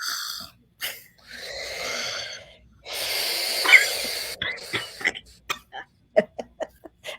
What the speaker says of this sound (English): it even makes that hissing noise, just like a cobra would hiss